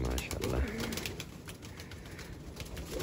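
Pigeons coo softly at a loft where a pair of Grizzle pigeons has just raised chicks, a few low, rounded calls rising over a muffled background with a faint voice nearby.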